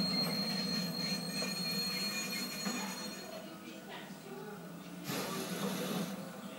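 A metro train in the video game Watch Dogs rumbles steadily with wheel squeal and rail noise, loud and continuous across the whole stretch.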